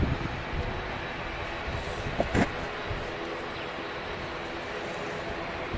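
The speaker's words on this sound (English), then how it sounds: "there's another Ryanair 737-800 just touching down" Ryanair Boeing 737-800 touching down at Manchester Airport: a continuous low jet roar with a brief sharper burst near the middle, heard from a distance and without talk.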